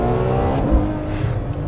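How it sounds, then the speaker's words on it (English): Ferrari F12 Berlinetta engine pulling hard under acceleration, a steady loud roar with harmonic whine and slight pitch changes as paddle shifts come through, continuous and close. "And to shift the car, we have column-mounted paddles because this is a Ferrari"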